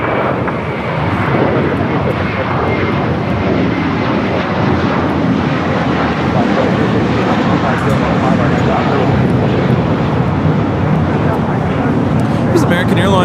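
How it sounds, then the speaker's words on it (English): An American Airlines A321 takes off from LAX bound for Dallas Fort Worth, its engines a loud, steady roar filling the whole stretch, with a voice talking over it. "This is American Airlines 2732 taking off to Dallas Fort Worth on the A321"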